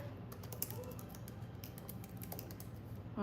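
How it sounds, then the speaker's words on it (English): Fingers type on a computer keyboard in quick, uneven runs of soft clicks, close by and fairly quiet, with no one talking. "Okay, just typing."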